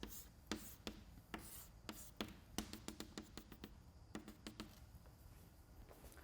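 Chalk or marker strokes on a board in a fluid dynamics lecture room, a string of quick taps and short scrapes in uneven bursts, faint and close, with no voices.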